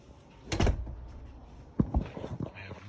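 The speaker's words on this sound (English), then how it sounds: "Close this door here." A door on a Primus Sportsman camp stove swings shut with a close, solid thunk, followed a moment later by a second knock and some light rattling and handling noises.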